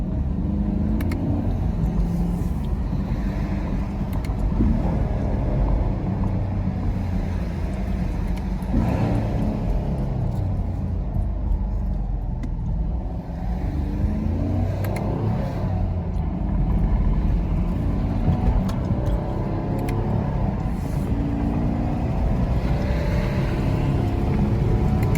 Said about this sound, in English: That's a little stock exhaust.